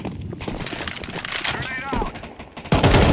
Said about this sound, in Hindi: गन चली है तेरी